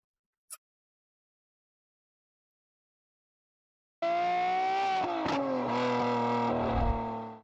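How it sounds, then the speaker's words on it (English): A Lamborghini Aventador Ultimae V12 with a valved Valvetronic exhaust revs loudly and close in one sustained blast after a single sharp pop and a long silence, its pitch easing down slightly before the sound cuts off abruptly. "And that, everybody, is the Valvetronic V12 experience."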